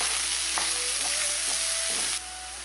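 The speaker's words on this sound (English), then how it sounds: "give your mushrooms a couple of minutes just to cook through" Mushrooms fry in a pan with a loud, continuous sizzle and crackle, close up and steady throughout, easing slightly in intensity toward the end.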